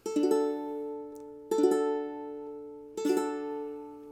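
A ukulele chord strummed three times at an even pace, each strum ringing out clearly and decaying before the next, close and alone.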